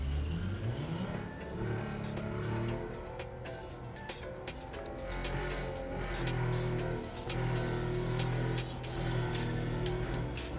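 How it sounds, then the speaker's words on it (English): A loud car engine in the video game Neverness to Everness, revving and accelerating steadily for about ten seconds. The low engine drone rises and falls continuously, and no one speaks over it. "This car is so loud."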